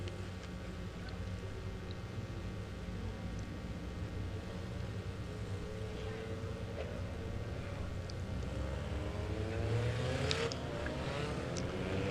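Front-wheel-drive race cars on an oval at the Indianapolis Speedrome build speed together, a steady, fairly distant engine drone from the pack that swells slightly toward the end, with no voices.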